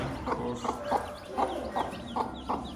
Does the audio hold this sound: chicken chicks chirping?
yes